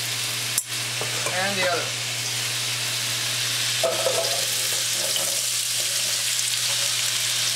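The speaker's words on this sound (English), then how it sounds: "There's no reason to stir fry your vegetables. Just saute them." Vegetables sautéing in a pan for potato-chestnut soup give a steady, soft sizzle throughout, with brief stirring scrapes and a few spoken words over the frying.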